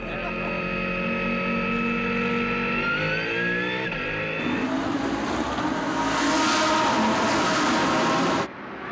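Audi WRT race cars at the start of the 2016 24 Hours of Spa roar loudly, their rising engine tones sweeping upward as the field accelerates and merging into a dense wash of noise, with commentary running underneath.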